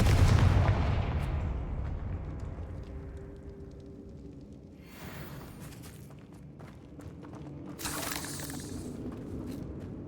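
Confringo fire spell blasts in the game Hogwarts Legacy, a heavy booming impact at the start decaying into rumble, followed by two sharper crackling bursts about midway and near the end, fairly close and loud.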